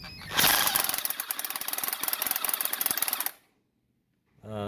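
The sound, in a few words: electric drill drilling into concrete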